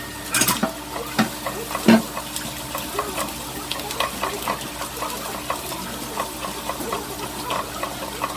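Garlic fries in a pan with pork nearby, a soft, steady sizzle broken by a few sharp clatters and stirring scrapes near the start.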